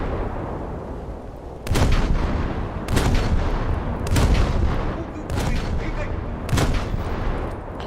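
Naval guns in a warship video game fire in a steady series of five loud, booming salvos about a second apart, each a sharp blast with a rumbling tail over continuous engine and sea ambience.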